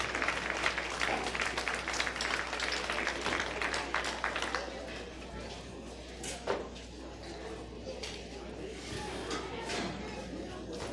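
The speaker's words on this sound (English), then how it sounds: "Let's give those two young people a big round of applause and a nice class." Applause from the audience at the 2022 Moore County Stock Show for two young cattle exhibitors, a dense patter of clapping in a large hall that thins and fades after about four seconds, with the announcer talking over it.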